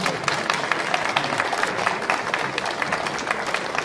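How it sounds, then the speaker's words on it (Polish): Applause from a crowd at a Polish county harvest festival as a harvest wreath is raised, a steady patter of clapping at moderate distance with no talk over it. "Wielkie brawa."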